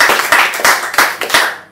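Short bursts of clapping from a small group, about five quick uneven volleys, close and fairly loud, ending abruptly.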